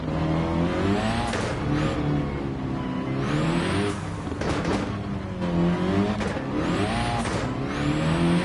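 A stock dirt-track race car with high turbo RPM in a sim racing game, its engine revving repeatedly in rising and falling sweeps, loud and close with brief tire noise between shifts.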